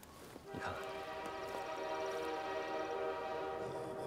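A military train rolls past, its long horn sounding a sustained tone over the rumble of the cars, moderately distant and fairly quiet.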